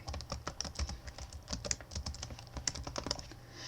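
Typing a name for a virtual machine on a computer keyboard: a rapid, uneven stream of close, crisp key clicks that continues throughout with no speech.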